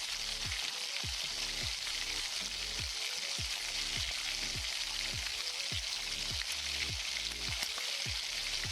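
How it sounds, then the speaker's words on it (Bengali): Chopped onions with salt frying in oil in a pan, a continuous bright sizzle with a regular swish of stirring about every half second, close and steady without speech. "এগুলোকে হালকা ভেজে নিতে হবে।"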